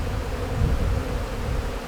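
Honey bees swarm around an open hive during an inspection, a steady, dense, close buzz filling the air with slight swells in intensity and no voices over it.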